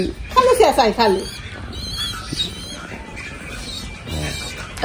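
Large caged pigeons give a burst of harsh, rapid squawks near the start, then quieter calls while people talk close by.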